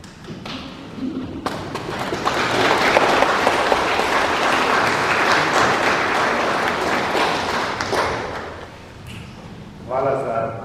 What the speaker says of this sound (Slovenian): Tudi ta aplavz, ki naj velja predvsem vam